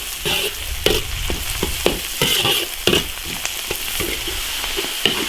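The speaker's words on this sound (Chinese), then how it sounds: "生姜、大葱爆香，盐菜，花椒、干辣椒来一点" Ginger, scallion, pickled greens, Sichuan pepper and dried chilies stir-fry in a hot iron wok with cured pork, a loud continuous sizzle broken by repeated scraping stirs and clanks of the spatula, close up.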